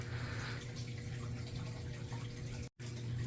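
Water drains from a reef aquarium during weekly maintenance as a soft, steady rushing trickle, quiet and continuous, with a brief dropout near the end.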